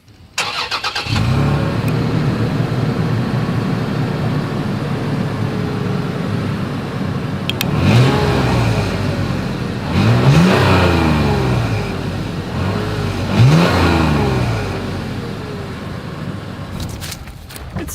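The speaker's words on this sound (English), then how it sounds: "As always, here is that exhaust clip." A 2021 Toyota 4Runner Nightshade with a single exhaust starts and idles with a steady rumble, then revs sharply three times in quick bursts, loud and close, before settling back to idle.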